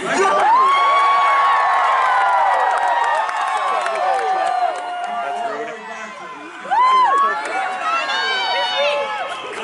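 A large, dense crowd at a Green New Deal rally with Bernie Sanders in Fresno, California, cheers, whoops and shouts continuously, with many excited voices overlapping and rising in loud bursts.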